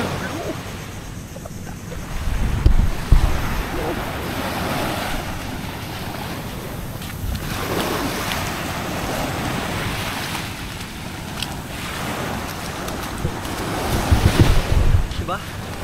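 Sea waves roll in at Sabang near Puerto Princesa, Palawan, swelling and washing in repeated surges under heavy gusts of wind buffeting the microphone, loud and close throughout.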